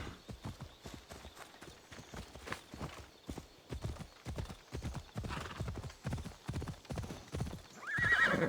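A horse in the video game Assassin's Creed Odyssey gallops with a fast, steady clip-clop of hooves, fairly faint, ending in a short whinny.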